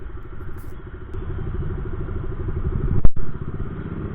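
Many motorcycles idle together at a bikers' gathering for World Motorcycle Day in Bangalore, a loud, continuous throbbing rumble with a sharp clack near the end.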